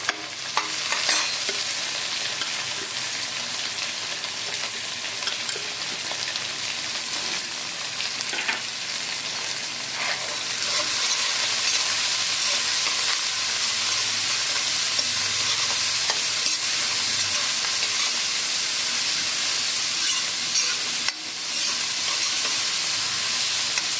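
Onions stirred and sautéed in a pan for Tamil-style ridge gourd kootu give a steady, close sizzle with scraping stirs and a brief break near the end, and no voices.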